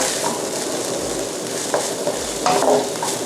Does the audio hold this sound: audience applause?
no